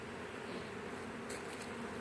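A honeybee swarm hums steadily and close as it is hived, a dense continuous buzz with no voices over it.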